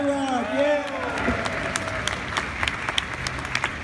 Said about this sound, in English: Give them a round of applause here, huh?